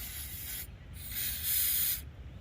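Cloth wiping and rubbing a cleaned stainless push mower part dry, a close, steady scrubbing hiss in two longer strokes with a brief pause between them, no voices.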